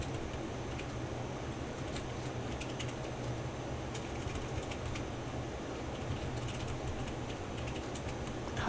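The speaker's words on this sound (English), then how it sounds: "Oh no, the background typing sounds." Faint, steady keyboard typing sits in the background behind a low constant hum, with soft scattered key clicks running throughout and no voices.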